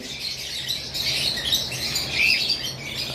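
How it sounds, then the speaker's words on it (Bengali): A pair of pet lovebirds kept for breeding give soft, high chirps and squawks close by, fairly continuous over a low background hiss. "আর এখানে দুইটা লাভ বার্ড রয়েছে"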